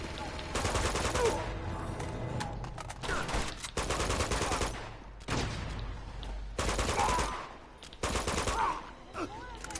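Repeated long bursts of loud machine gun fire in Uncharted 2: Among Thieves, broken by short pauses, with a voice speaking faintly underneath at times.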